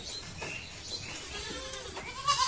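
Several goats bleating on a farm while feeding, with overlapping wavering calls at close to middle distance and a louder, busier stretch at the end.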